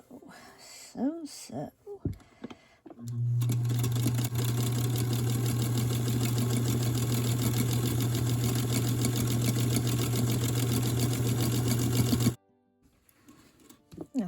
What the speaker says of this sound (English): I am going to sew